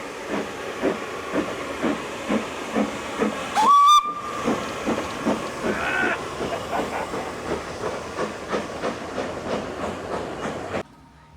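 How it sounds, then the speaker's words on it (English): A steam locomotive chuffs in a steady rhythmic beat, hissing steam, with a short shrill whistle blast partway through before the sound cuts off. "The steam train has started to move."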